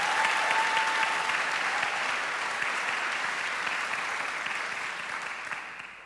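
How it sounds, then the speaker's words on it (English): A diversity and inclusion conference audience gives Damien and his team a round of applause, with dense, even clapping that holds steady for about six seconds before tapering off. "I think we need to give Damien and his team another little bit of a round of applause"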